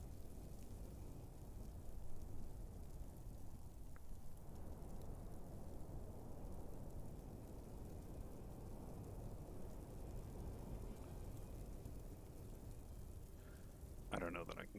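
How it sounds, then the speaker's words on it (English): Steady, dense rain hiss from the Space Engineers video game fills the whole stretch at an even level, with a brief sharper sound near the end. "Ugh, this rain is not helping me."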